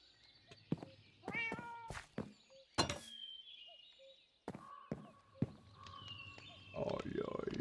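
A cat meows several times in a Minecraft-style survival game, mixed with thuds, clicks and other game effects, with someone talking over part of it.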